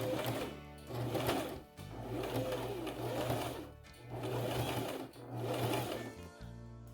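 A sewing machine stitches scrunchie fabric in several steady, rhythmic bursts with brief pauses between runs, close and fairly loud.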